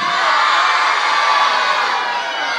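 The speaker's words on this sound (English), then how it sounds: "I think the crowd was saying yes, eh?" A wrestling crowd at Brean Sands roars and shouts in a loud, dense, continuous wall of cheering and whoops, sustained evenly throughout with no clear gaps.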